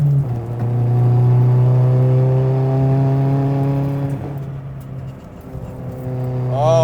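A modified Toyota Starlet Glanza V with a very small turbo and a limited-slip diff runs hard: a loud, close engine drone holds steady, eases off around the fourth second, then swells back up at the end.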